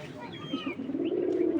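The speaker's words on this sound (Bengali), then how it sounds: "এখানে একটা জোড়া দেখাচ্ছি গ্রিবাস কবুতর" A pair of Giribaz pigeons coos close by, a low, throaty, rolling call rising over faint background noise.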